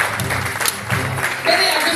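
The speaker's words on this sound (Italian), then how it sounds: "Applausi per Domenico" An audience applauds a volunteer at a circus show, a broadband wash of clapping that sits close and steady, with voices murmuring underneath throughout.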